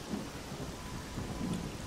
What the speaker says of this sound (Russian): дождь в этой игре что-то прям какой-то люто громкий оказался